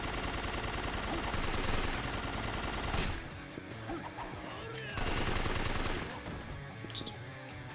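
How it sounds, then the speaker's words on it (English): Sustained gunfire rattles through a Yakuza 4 fight: rapid, dense volleys that ease slightly midway and then surge again, with voices heard amid the shooting. "Stop shooting me!"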